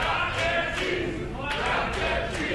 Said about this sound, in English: you can hear this crowd chanting along